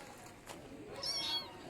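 A cat gives a single faint meow near the end, rising briefly over a soft, steady background hiss with no talking.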